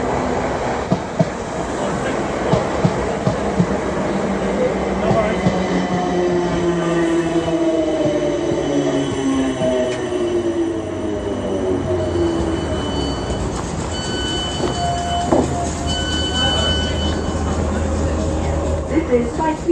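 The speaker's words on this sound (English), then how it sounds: "we're on the train" A passenger train runs from Byfleet and New Haw toward London Waterloo, with a steady rumble, rattle and faint squeals throughout. Someone talks quietly over the ride noise.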